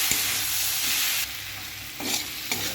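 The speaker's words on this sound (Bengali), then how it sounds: "হলুদ গুঁড়ো, লঙ্কা গুঁড়ো দিয়ে এবার এটাকে আরও কিছুক্ষণ কষতে হবে।" Potatoes sauté in a pan with turmeric and chili powder for a curry, giving a steady close sizzle with scraping stirring strokes that briefly quiet, then return with a few spatula clinks.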